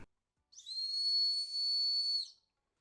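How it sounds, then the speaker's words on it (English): A high-pitched stainless steel whistle shaped like a Tesla Cybertruck model gives one loud, shrill, sustained blast of about two seconds, with a slight dip midway, alone in a quiet room. "it does have a very high-pitched, loud whistle"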